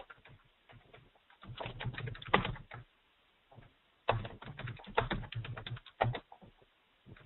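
Typing on a computer keyboard, close and fairly quiet, coming in quick bursts of clicking keys separated by short pauses, with no voices over it.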